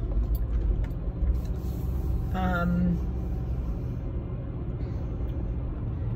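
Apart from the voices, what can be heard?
car interior rumble while driving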